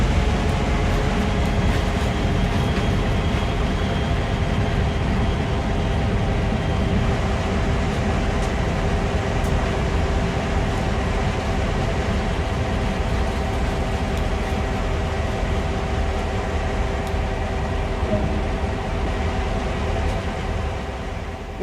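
Train running in the video game Train Sim World, a loud continuous rumble of wheels and engine with steady tonal hum throughout, fading slightly at the end, no voices.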